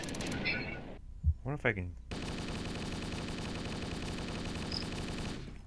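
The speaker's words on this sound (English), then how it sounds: "With a Halo assault rifle, no less." A Halo assault rifle fires in Garry's Mod, a rapid, continuous automatic burst that runs loud and steady for several seconds after a brief pause, with a voice speaking just before.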